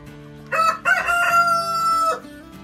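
A young rooster on a farm gives a single loud, close crow, a short opening note followed by a long drawn-out call lasting over a second.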